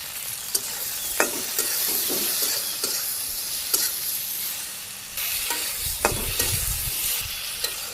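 Okra sizzling in a pan with chopped onion, salt, turmeric, chilli powder and slices of green chilli, a steady frying hiss broken by repeated scraping stirs of a spatula, with no talking.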